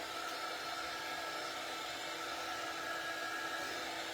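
A hair dryer blowing on a painted Santa star ornament cutout to dry the paint, a steady, even whooshing hum running unbroken from start to finish with no talking.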